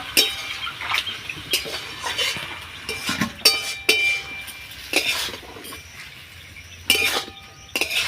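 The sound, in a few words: stirring banana flower in a pan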